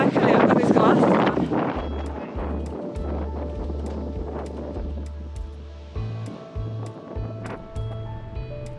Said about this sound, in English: That crazy headwind with all the sand blowing.